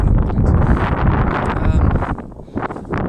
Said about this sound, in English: Very windy. Always windy in the